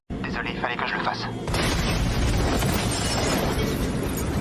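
A museum blows up in a TV series scene: a sudden loud, broad explosion bursts in after a brief stretch of other sound, then a dense roaring rumble of debris fills the rest.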